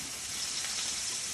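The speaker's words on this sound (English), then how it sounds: "All right, so we're gonna let those steaks sear." Steaks sear on a grill set to medium-high, giving a steady, close, dense sizzle that holds evenly throughout with no voices.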